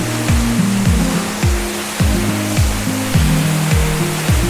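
Water rushes continuously at Pattathippara waterfall near Pananchery, Thrissur, as a dense, loud wash of noise close to the microphone, with a muffled, rhythmic pulsing thump repeating beneath it and no voices.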